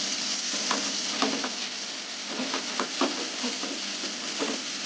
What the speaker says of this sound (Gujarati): તેલને ગરમ થવા દેવાનું. અંદર લસણ નાખી દેવાનું.